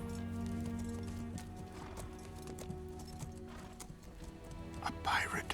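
Horse trotting at an unhurried pace by a pirate sentry on a shore, steady clip-clop hoofbeats running throughout beneath a dense musical score and a narrating voice.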